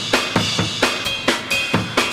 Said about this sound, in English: you can hear the ride cymbal in the background there.